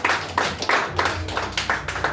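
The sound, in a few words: congregation applauding in church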